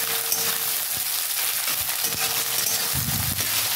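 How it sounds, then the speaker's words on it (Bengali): Chopped onions frying in hot oil in a pan for a potol chingri curry, a continuous busy sizzle with occasional stirring clinks, close and steady, no talking. "পেঁয়াজটা জাস্ট একটু ভেজে নেবেন"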